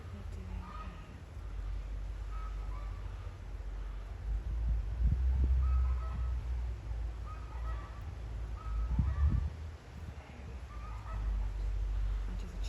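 Chickens cluck and squawk in repeated short bursts near a beehive outdoors, moderately close over a steady low wind rumble.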